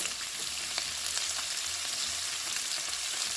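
Low-carb keto meatballs frying and browning in a pan give a steady, close sizzle with soft crackle and spatter throughout and no voices.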